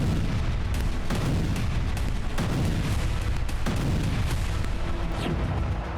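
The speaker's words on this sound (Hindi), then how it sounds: "डोनेस्क के स्तारोमेयोर्स्की में रूसी सेना ने ग्रैड रॉकेट लॉन्चर से जबरदस्त तबाही मचाई" A Grad rocket launcher fires a salvo in Donetsk. A dense, continuous roar of launches and booms carries on without a break, loud and rumbling.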